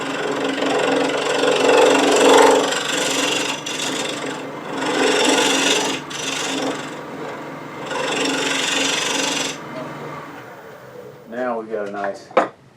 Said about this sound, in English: I'm going to use a 3/8 inch full scraping cut.